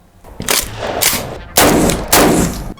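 Several loud shotgun blasts from a tuned Saiga-12 crack in sequence, each with a sharp burst and lingering decay, the later blasts louder and closer.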